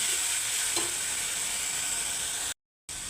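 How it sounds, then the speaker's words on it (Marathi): Onion paste sautés in a pan for a dhaba-style cashew kurma, a steady close sizzle with scraping stirs, cut off briefly near the end. "त्यामध्ये मी दोन कांद्याची पेस्ट तयार करून घेतली आहे ती पण त्यामध्ये टाकून घेतली ही पेस्ट आपली चांगली परतून झाली पाहिजे"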